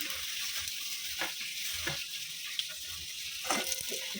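Lentil dumplings (bori) fry in hot oil with a steady, dense sizzle and a few soft clicks and pops from stirring scattered throughout.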